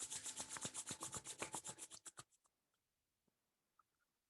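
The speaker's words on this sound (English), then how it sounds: "Rub your hands." Hands rub briskly together in a steady back-and-forth rhythm of soft, close friction strokes for about two seconds, then stop, leaving a few faint isolated rustles in quiet.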